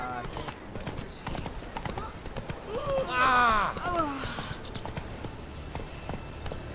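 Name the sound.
Roach the horse's hooves clopping in The Witcher 3 video game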